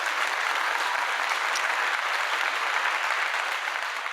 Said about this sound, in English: let me give you a round of applause for that real quick.